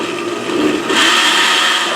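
A Tribest glass personal vacuum blender runs steadily and loudly, its motor pitch rising and brightening about halfway through as the blend continues, with no talking.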